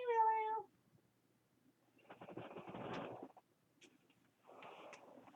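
A pet cat gives a short, close meow right at the start, then falls quiet while soft rustling and handling noises follow.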